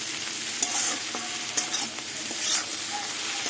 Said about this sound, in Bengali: আবার সব কিছু দিয়ে ভালো করে আবার একটু ভাজা ভাজা করে নেব।